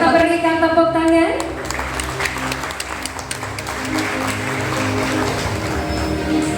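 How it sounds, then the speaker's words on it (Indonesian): Applause from a crowd at a car dealership opening breaks out after a musical tone fades, with busy clapping continuing under a voice and background music. "boleh kita berikan tepuk tangan"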